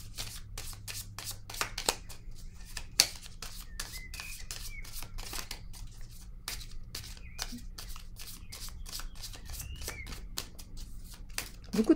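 A deck of animal oracle cards is shuffled up close in rapid riffles and clicks, with brief pauses between bursts, while faint whistling or voice-like sounds drift underneath.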